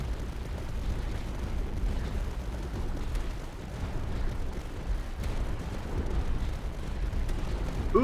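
Mortar fire in the strategy game Tower Dominion, a continuous low rumble of repeated distant explosions and booms rolling on without a break, with no speech.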